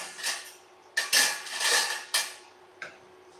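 A metal spoon scrapes and clinks against a frying pan while tofu is cooked for a breakfast sandwich, with several distinct scraping strokes and sharp knocks, close and fairly loud, and no speech.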